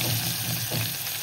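Chopped onion dropped into hot oil tempered with mustard seeds, cumin and asafoetida, a loud dense sizzle filling the whole brief moment.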